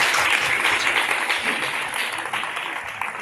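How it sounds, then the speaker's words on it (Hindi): Enthusiastic studio audience applause on a televised quiz show, a thick wash of clapping that starts strong and gradually softens over a few seconds. "एक बार जोरदार तालियां हो जाएं।"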